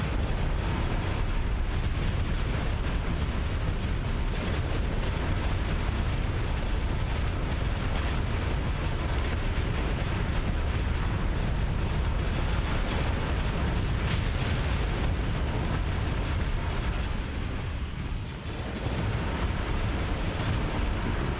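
Space battle in the game Starsector with ship cannons firing and explosions: a dense, unbroken roar of booms and blasts layered into a constant loud wash, with no speech over it.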